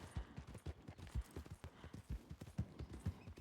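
Hooves of a single horse clip-clop in a steady trotting rhythm in a western video game, crisp repeated thuds close up and fairly quiet, with no talk over them.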